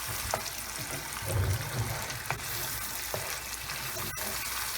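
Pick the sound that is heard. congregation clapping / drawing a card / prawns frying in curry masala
prawns frying in curry masala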